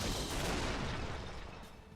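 A cannon attack fires in the video game Xenosaga III, a dense, booming barrage that rumbles loudly and continuously before easing off slightly at the end, with no talking.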